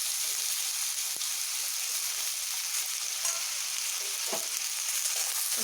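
Potatoes and jackfruit seeds fry in a pan with a steady, dense hiss and crackle throughout, close and even, with a few faint scraping touches.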